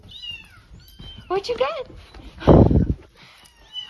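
Kitten-like meowing squirrel calls play from a speaker as high, squeaky mews and chirps, with a person talking to a pet cat in between.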